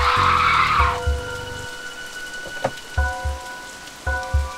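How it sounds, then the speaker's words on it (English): Rain falls steadily on and around a car on a road at night, a constant hiss with tonal hums and several dull thuds scattered through it. "It began to rain."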